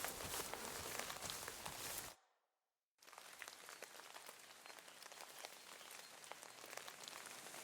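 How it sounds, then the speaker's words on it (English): Rainfall in the medieval video game Kingdom Come: Deliverance II, steady pattering drops on surfaces that cut out abruptly into brief silence, then resume at a slightly softer, even level. "Damned rain."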